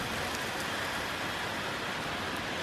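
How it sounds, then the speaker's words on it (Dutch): Heavy rain falling in a vegetable garden, a dense, even hiss of drops on surfaces that continues steadily and close throughout, with no talk. "Zoals je hoort, het regent behoorlijk."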